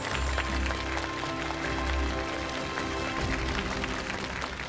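Audience applause greeting a young dancer at a televised Chinese poetry-and-painting performance show, a dense, steady clapping that fills the hall evenly from start to finish with no voices over it.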